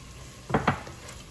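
A spoon stirs prawn masala in a cooking pan, making two short, close scraping clanks in quick succession against a quiet kitchen background, with no voices.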